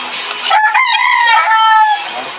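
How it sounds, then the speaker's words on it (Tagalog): A rooster crows once, loud and close, a long rising-then-falling call lasting about two seconds. "Maingay yung manok, hindi narinig talaga"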